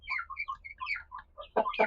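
Country chickens of the Neelakori and Hirekoli types cluck and chirp in quick, close, uneven bursts, with a few louder calls near the end and no talk.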